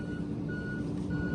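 A truck reversing at a night demolition site on a milk farm, its backup alarm beeping in a slow steady rhythm over a loud low engine rumble.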